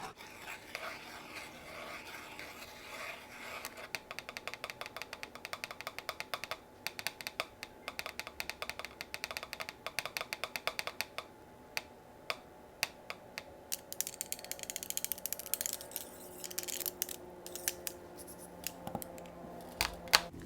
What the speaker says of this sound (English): A few taps for the ASMR tingles.